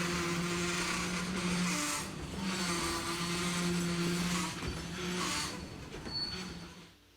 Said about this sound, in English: the brake pads are pressing against the wheels, and that causes some of the squealing noises you hear sometimes